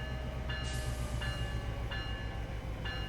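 Freight train rolling along in a San Bernardino rail simulator game, a constant low mechanical rumble with tonal whine and faint rhythmic track clicks repeating every second or so.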